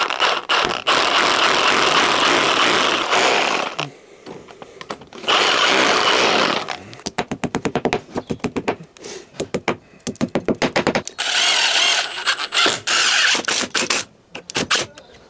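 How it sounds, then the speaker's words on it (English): Fixing holes for a consumer unit are drilled into a wall with a power drill, loud close bursts of whining drilling separated by short pauses and rapid stop-start pulses. "And then we'll drill them out and get them stuck on the wall."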